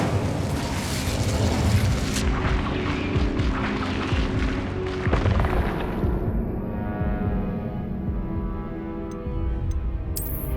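Incendio fire spell cast in the Hogwarts Legacy video game, a dense, loud burst of roaring, crackling flame and impact noise that fills the clip, followed by a lighter sparkling hiss near the end, with no talk.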